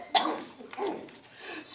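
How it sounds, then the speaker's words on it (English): A single sharp sneeze bursts out close by, followed by softer breathy vocal sounds, fairly quiet overall. "Sneezing."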